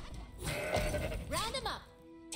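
A goat bleats in the Legends of Runeterra card game, a wavering nasal cry rising and falling near the middle, with someone talking over the game sounds.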